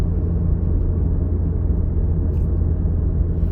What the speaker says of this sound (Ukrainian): Зараз в мене механічна коробка, до речі, механічна коробка передач, тому я зараз їду на третій швидкості.